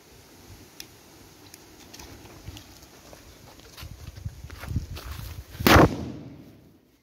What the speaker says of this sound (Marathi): आता बॉम्ब लावणार तयार झाला